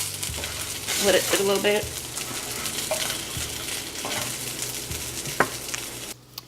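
Tilapia simmering in a pan on a just-switched-off stove, giving a steady soft sizzle and bubbling with a few utensil clinks, close by, while someone talks over it briefly.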